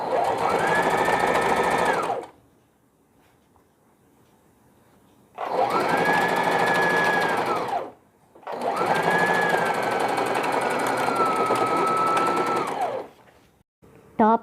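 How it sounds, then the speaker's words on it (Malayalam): An electric sewing machine stitches the front, back and side fabric pieces of a newborn head-shaping pillow, running in three loud continuous bursts separated by quiet pauses. "ഫ്രണ്ടും ബാക്കും സൈഡ് നല്ല ഭാഗവും ചേർത്ത് വെച്ച് സ്റ്റിച്ച് ചെയ്യാൻ സ്റ്റാർട്ട്."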